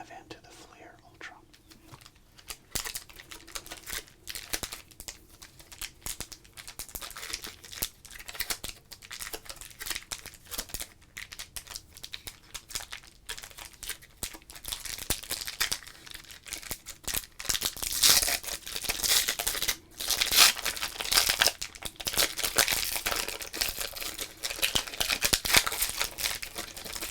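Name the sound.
opening 1992 Flair Ultra trading card pack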